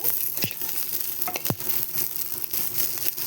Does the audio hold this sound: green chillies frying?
yes